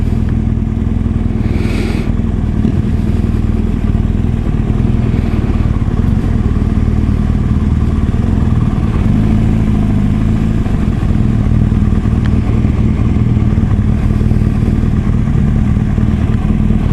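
Motorcycles ride and rev nearby, a loud continuous low engine rumble with clattering and wind noise throughout, with no clear separate revs standing out.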